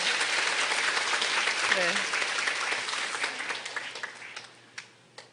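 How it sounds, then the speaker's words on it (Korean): A lecture audience gives a dense round of applause that thins into scattered, dying claps toward the end, with a speaker's brief voice heard during it. "예, 다시 한번 박수 부탁드립니다."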